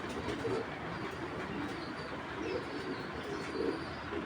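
Fitki breed pigeons, including a large hen, coo softly in a loft, their low murmuring calls blending into a steady background of flock noise without any talking.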